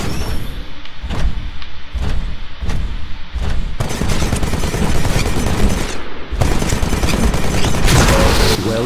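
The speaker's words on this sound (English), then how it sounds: "This weapon absorbs incoming ballistics for a limited time, then refires them" Titan Vortex Shield in Titanfall absorbing incoming gunfire and refiring it, with spaced heavy thumping shots giving way to a loud, dense stream of rapid fire with a brief break.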